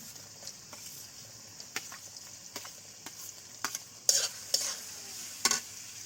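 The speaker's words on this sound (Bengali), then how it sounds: "পেঁয়াজটা ভালো করে লাল লাল করে ভেজে নেব" Chopped onion sizzles in a pan, a soft steady frying hiss, while a spoon stirs it with scattered louder scraping clicks and taps against the pan.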